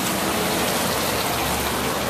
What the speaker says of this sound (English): And we got a little bit of a rainy day,